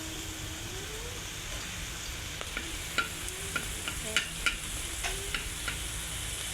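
Garlic frying in a pan, a continuous near sizzle broken by a run of sharp spatula scrapes and taps toward the end, no one speaking.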